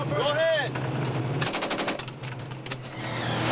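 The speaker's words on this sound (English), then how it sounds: "I'm gonna test fire, Sergeant Harper" A soldier test-firing a weapon: a short rapid burst of automatic gunfire in the middle, sharp repeated cracks over a steady engine drone, with a brief voice at the start.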